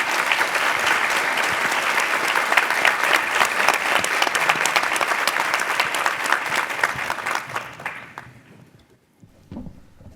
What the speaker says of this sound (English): Could we please get a round of applause for our panelists?